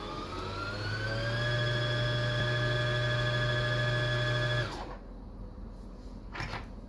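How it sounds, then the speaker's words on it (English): A sewing machine winding a bobbin gives a steady motor whine that rises slightly in pitch as it speeds up, holds evenly for several seconds, then cuts off abruptly, leaving quiet room tone. "Push your bobbin firmly to the right until it clicks in place. And press your feed pedal to start the winding."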